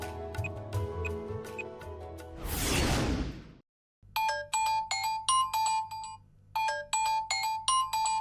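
Phone in a Tamil TV drama scene ringing: electronic ringtone bursts in a repeating pattern after a whoosh and brief chime, clear and alone with no talk.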